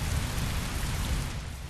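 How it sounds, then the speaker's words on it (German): Steady rain pours down in the video game Heavy Rain, a dense unbroken hiss with a low rumble beneath it, constant and close for the whole short stretch without any voices. "Keine Lust mehr, hier im Regen zu stehen."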